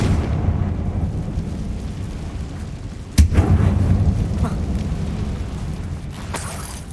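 In Hogwarts Legacy, a fire spell explodes as one sharp, loud bang midway through, then a brief rumbling tail over a steady low ambient bed.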